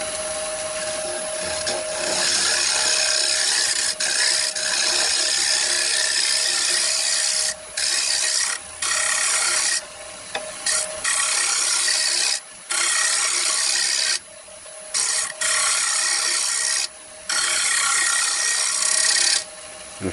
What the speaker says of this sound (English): I'm just getting rid of these little ridges with my scraper